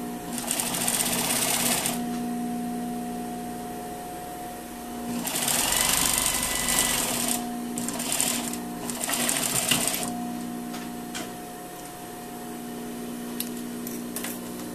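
A sewing machine stitches the centre front of a tailored, lined jacket in several rapid whirring bursts separated by pauses, close and clear against a quiet room.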